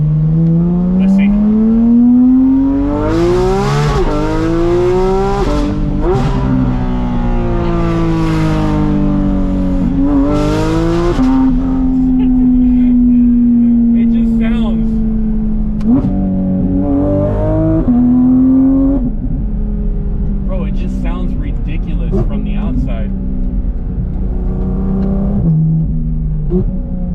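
A straight-piped Porsche GT4 RS exhaust revs hard again and again, its loud, raspy engine note climbing and falling through repeated throttle blips, up close and continuous.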